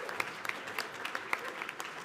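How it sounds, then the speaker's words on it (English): Audience applause at a student assembly spring conference session: light, scattered clapping with distinct individual claps, fairly quiet and steady for the whole stretch. "Can we get another round of applause for being here tonight?"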